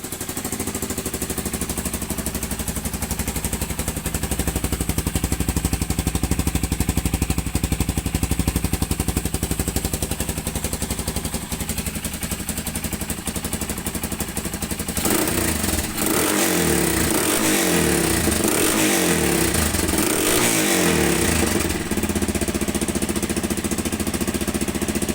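A Yamaha XT225 motorcycle with an aftermarket eBay exhaust, baffle fitted, idles with a continuous raspy, buzzy drone. Near the end come several deeper revving surges.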